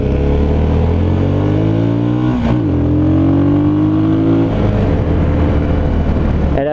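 A MASH Five Hundred motorcycle engine runs steadily, its tone climbing as it revs for a couple of seconds before dropping back to a rough idle, loud and close with no voices.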